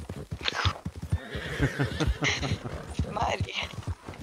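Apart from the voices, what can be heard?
horse hooves in Red Dead Redemption 2 video game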